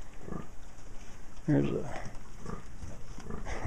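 Pigs on a farm, a large old boar among small piglets, grunt in short low bursts, one louder snort standing out briefly while someone talks over them throughout.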